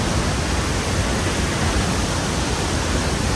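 Thunderous roar of Thoseghar waterfall in full monsoon force, a loud, dense, unbroken wash of crashing water close by with no voices.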